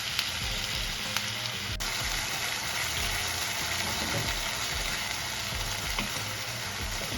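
Chicken is stirred on a hot tawa, giving a loud, steady sizzle with occasional scraping clicks from the utensil against the pan, and no talking.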